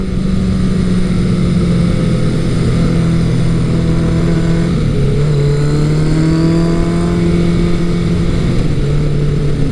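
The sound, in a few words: Kawasaki Eliminator 900 motorcycle engine while riding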